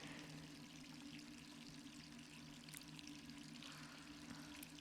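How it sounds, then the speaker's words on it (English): Water runs steadily from a tap in the Resident Evil 3 video game, a quiet, continuous pouring hiss with a faint steady hum beneath and no voices. "let's turn off that water"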